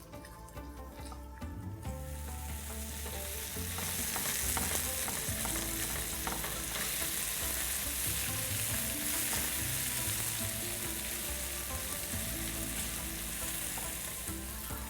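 Onions sprinkled with salt frying and browning in a pan, a loud dense crackling sizzle that swells after the first couple of seconds and holds steady, close up.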